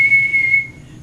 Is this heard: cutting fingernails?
no